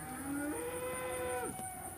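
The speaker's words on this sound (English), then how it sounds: "It's delightful sitting out here in this wonderful field, listening to cows all around." Cattle lowing in an open field: one long, sustained moo that rises and holds for over a second before falling off, fairly near and loud above a steady outdoor background.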